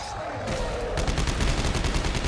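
Rapid gunfire in the video game Dead Space 3 during co-op play, a fast rattling burst of repeated shots close and loud, starting after a brief lead-in of game noise.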